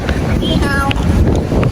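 Steady wind rumbles and buffets a nearby microphone near Taipei 101 in Taiwan, low and constant, with faint outdoor sounds and a brief voice in the background.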